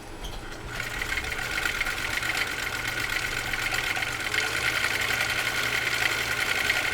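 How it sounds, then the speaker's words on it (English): A Husqvarna Viking CL21A sewing machine runs steadily, stitching through three layers of genuine cowhide leather, with a continuous mechanical whir and rapid needle clatter that stays loud and even throughout, with no talk. "And now we're going to sew off stitch number 3 on cam A."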